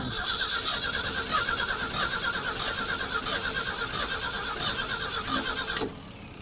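An abandoned farm truck engine with a suspect carburetor cranks steadily and rapidly as it tries to start, then cuts off abruptly near the end without catching.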